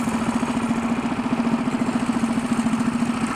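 A mini bike's small engine runs close by with a steady, throbbing putter that pulses rapidly as the throttle is held open, with no pauses.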